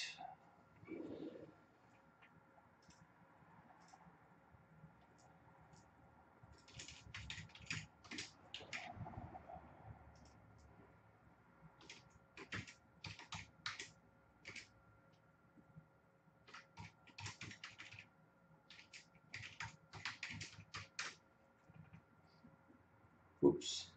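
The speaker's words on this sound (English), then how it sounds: "that's why I'm typing" Computer keyboard typing in bursts of rapid clicks, close and moderately loud, alternating with quieter pauses over a low room hum.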